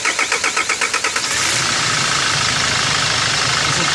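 A Kia Sorento engine struggles through a hard start, the starter cranking in rapid rhythmic pulses for over a second before the engine catches and settles into a loud, steady close-up idle.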